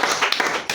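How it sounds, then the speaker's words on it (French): Children at a Sunday school service clap together in a short burst of quick, uneven claps, fairly close and bright. "Applaudissez donc pour vous-même."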